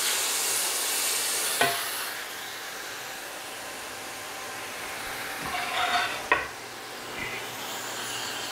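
Japchae noodles in a pan are stirred after a soy sauce mixture with brown sugar, sesame oil and sesame seeds is poured in, giving a soft, steady scraping sizzle with a few sharper clinks.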